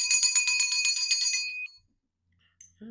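A small bell rings rapidly in a bright, tinkling series, fades into silence, then a brief clink and a low sound follow.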